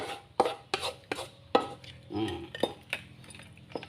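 A spatula scrapes and clinks against a pan as stir-fried crab with basil and minced pork is scooped onto a plate, giving irregular close metallic knocks and scrapes with faint background noise.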